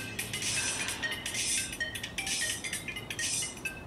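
A mobile phone ringtone for an incoming call plays as a steady, bright repeating melody in bursts, fairly loud and continuous, with a low background rumble and no speech over it.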